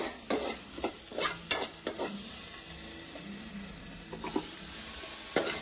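Maggi noodles toasting and being stirred in a hot pan, with a steady dry sizzle broken by repeated sharp scrapes and clinks of the spatula against the pan, close and with no talking.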